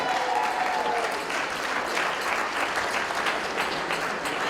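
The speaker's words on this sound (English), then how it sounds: "Give her a round of applause, please." Loud sustained applause for a parliamentary assistant at a Nowruz gala, dense even clapping throughout with a faint voice or tone briefly audible at the start.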